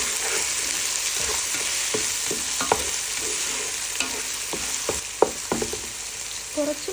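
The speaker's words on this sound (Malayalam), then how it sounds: "ഇതെല്ലാം നല്ലതുപോലെ വഴറ്റിയെടുക്കുക" Onions sautéing in a pan for a turkey biryani, with a steady hiss of frying and scattered scraping clicks of a spoon stirring throughout.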